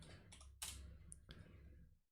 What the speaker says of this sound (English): Sorry, typing with one hand, not easy.